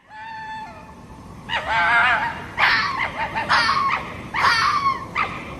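A fox calls in a forest with a few sharp, yelping barks and whining cries, each burst short and close, separated by brief pauses, with no talking.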